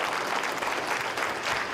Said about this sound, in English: He didn't even wait for this clapping to finish.